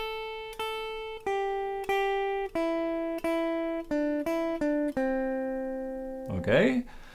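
Two measures of the second guitar part from a song: about a dozen single plucked notes in a steady rhythm, each ringing and decaying, played close, followed by a brief voice at the end.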